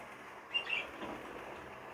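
A baby opaline cinnamon grey budgie in a nursery flight gives a quick flutter of wings with a couple of faint high chirps, close but quiet against a low background hum.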